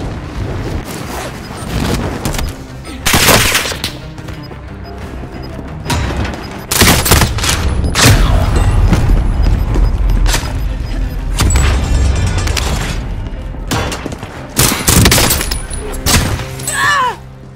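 Shooting in Warzone, heavy gunfire with repeated loud cracks and booming impacts scattered over a noisy battlefield, some shots near and others farther off.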